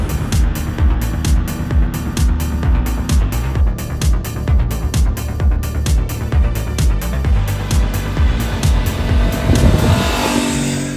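An Aprilia RS457 motorcycle engine pulses in a fast, regular rhythm as it is ridden, holding loud and close throughout before swelling toward the end.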